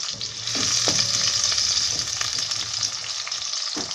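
Onions and green chillies for a fish kulambu sizzle and fry in a pan, with a few close stirring scrapes over the steady hiss.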